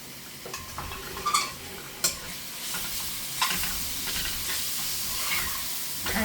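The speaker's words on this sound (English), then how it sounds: "I threw in the meat with the onions. Now that's gonna cook up." Meat and onions fry together in a pan for roast pork fried rice, a close steady sizzle broken by a few sharp spatula clicks and scrapes, with no talking.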